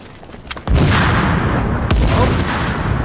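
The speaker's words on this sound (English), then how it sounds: "Oh! Explosions." Explosions in The Division video game: a loud, booming blast erupts and keeps rumbling, then a second heavy boom follows about a second later, layered over continuous gunfire-like crackle with no talking.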